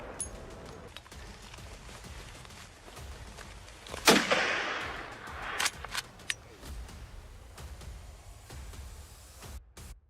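A sharp gunshot cracks out during a wild boar hunt in a North American mountain forest, followed by a few fainter sharp bangs and rustling against a quiet outdoor background.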